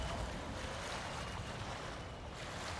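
Steady broadband water wash and splashing from a character swimming through a lake in Ghost of Tsushima during a thunderstorm, a continuous even roar with no voices.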